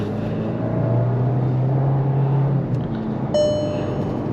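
A Skoda Slavia 1.5 TSI DSG sedan accelerates to overtake two autorickshaws on the road, giving a steady, droning engine hum from inside the cabin, with a few brief higher tones near the end.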